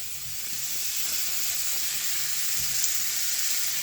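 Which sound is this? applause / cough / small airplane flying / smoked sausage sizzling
smoked sausage sizzling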